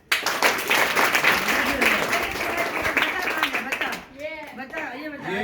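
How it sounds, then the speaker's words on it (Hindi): An audience at a school prize ceremony breaks into sustained, dense clapping that fades after about four seconds, as someone speaks over and after the applause. "तालियां बजाएं।"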